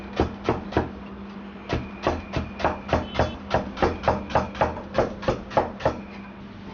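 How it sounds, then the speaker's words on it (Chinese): Knife chopping bitter melon into thin, even slices on a cutting board, a steady run of about twenty crisp, evenly spaced cuts, close and clear with no talking. "现在把苦瓜改刀，直接切成厚薄均匀的薄片。"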